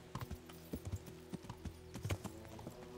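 Horse hooves clopping at a steady walking rhythm in the medieval game Kingdom Come: Deliverance, close and moderately loud, with no talk.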